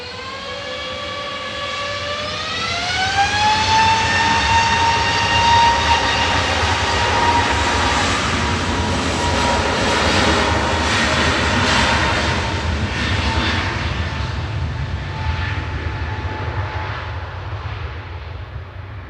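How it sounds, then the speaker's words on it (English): An EasyJet Airbus A320neo spools its jet engines up for takeoff at Manchester Airport, a rising whine sweeping upward over a heavy rumble, then a sustained loud roar that gradually fades. "GUZHC about to spool up this A320neo"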